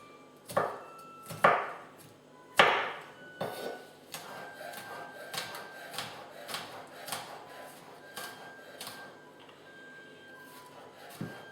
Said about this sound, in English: we're just going to chop this fine